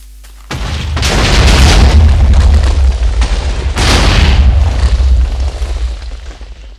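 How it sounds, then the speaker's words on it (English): TNT blasts leveling a village in Minecraft: a sudden deep boom, then a long rumbling roar of overlapping explosions with a second surge of blasts before it fades. "I've destroyed the whole village with that amount of TNT."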